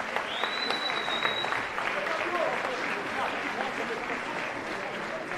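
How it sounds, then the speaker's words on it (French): Steady applause from an audience at a fight night, honouring fighter Fabrice Touré, a dense continuous patter of clapping at moderate distance with a faint voice underneath. "Applaudissements pour M."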